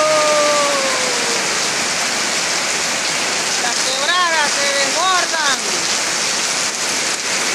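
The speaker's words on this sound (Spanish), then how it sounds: "Miren este chorro de agua." A strong jet of water gushes at El Junquillo with a loud, steady roar that fills the whole clip, while faint whistling tones rise and fall briefly above the rushing noise.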